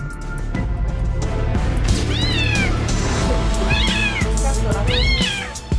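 A kitten stuck in a washing machine meows loudly and repeatedly in rising, strained cries over a constant low rumble, with brief clatter in the background.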